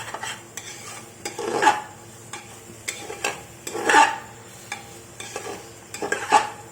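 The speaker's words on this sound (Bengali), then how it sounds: "সবজিগুলো হালকা ভাজা হয়েছে ওপর ওপর পুরোটা ভাজবো না" Vegetables being lightly fried in a pan for a vegetarian chicken-style dish, a soft sizzle with intermittent scraping stirs at a moderate level.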